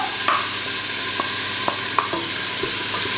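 Garlic and chopped parsley fry in a pan for Tunisian pasta in sauce, a strong steady sizzle punctuated by several sharp spoon clicks and scrapes against the pan.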